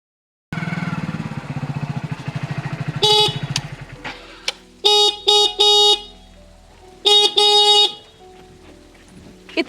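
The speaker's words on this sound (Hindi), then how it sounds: "इतने हॉर्न कौन मारा करे?" A vehicle horn honks in several loud bursts, short toots followed by longer blasts in two clusters, after a steady engine idle fades out.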